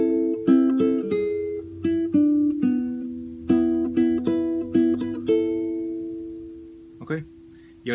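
Solo guitar plucks the opening fragment of a Colombian cumbia: a lively run of clear picked notes, close and alone, fading out before a brief noise at the end.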